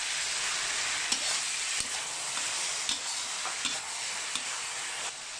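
Marinated pork with ginger stir-frying in a pan with chilies and peppers, a steady close sizzle broken by regular scraping strokes of a spatula roughly every half second to second, no voices.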